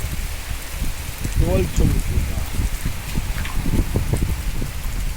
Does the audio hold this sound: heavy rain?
yes